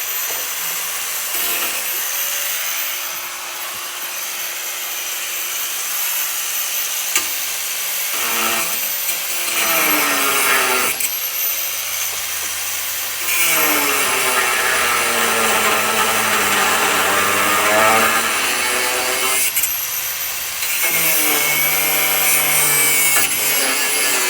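Cutoff wheel grinding through a bolt on a crashed 2006 Mercedes Sprinter, a harsh continuous screech rising and falling in pitch over repeated long passes with brief pauses between cuts, loud and close.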